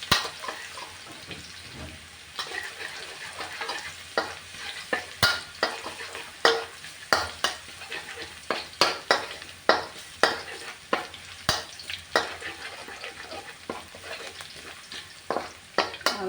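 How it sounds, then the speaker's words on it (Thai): Garlic frying in a pan for Thai fried rice, a steady sizzle broken by repeated sharp scrapes and clinks of a spatula stirring, close and moderately quiet. "เราเจียวกระเทียมก่อนนะคะ"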